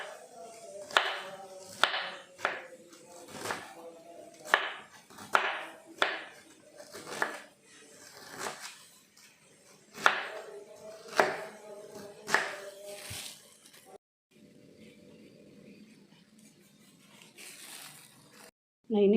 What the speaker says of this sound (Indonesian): Sekarang kalau kubisnya ikut sama diiris juga,